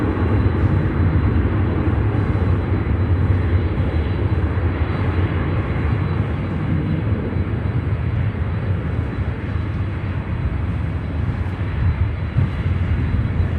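An Atlas Air plane arriving from Frankfurt at Chicago O'Hare passes overhead with a loud, continuous jet roar that holds steady for the whole stretch, with no talking.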